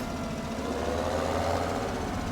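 Fendt 900 tractor engine in Farming Simulator 17, a continuous low rumble whose pitch rises slightly and eases back as the tractor moves forward and back, close and steady.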